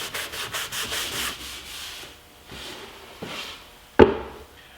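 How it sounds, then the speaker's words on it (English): A damp rag wipes excess glue off wooden plywood shelf pieces, producing close, rhythmic scrubbing strokes that slow to a few separate rubs, ending with a sharp knock. "use a damp rag to remove any excess glue before it has a chance to set up"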